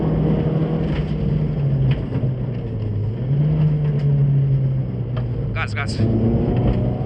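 Rally car engine drones steadily at high revs from inside the cockpit during a special stage of the Santa Domenica Rally Show, with faint gear-shift changes in pitch; a co-driver reads pace notes over it.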